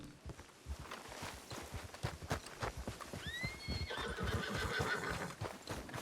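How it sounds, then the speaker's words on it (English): A Shire horse in the Red Dead Redemption II video game gives a clear rising whinny midway, set over steady clip-clop hoofbeats and rustling movement that continue throughout. "That was a big old Shire horse."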